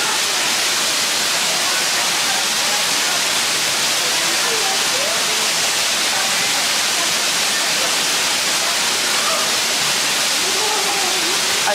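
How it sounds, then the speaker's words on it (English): A loud waterfall beside a hiking trail roars as a steady, dense wash of rushing water for the whole stretch, with a voice faintly talking underneath. "I hope you can hear me because the waterfall is pretty loud."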